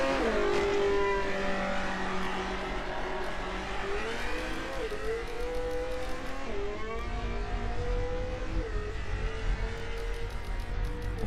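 A hypercar engine roars continuously on a racing video game track, revving up and down through gear changes at close range and high volume, with no gaps.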